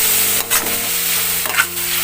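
Bottle gourd and ground pork sauté in a hot pan, frying with a steady loud sizzle while a utensil scrapes and stirs a few times.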